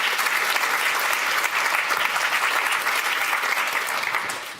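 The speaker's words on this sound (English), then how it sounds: "she deserves a big round of applause" Audience applause at a talk at De Balie in the Netherlands honouring Zineb el Rhazoui: steady, dense clapping from a full room that holds for several seconds before tapering off at the end.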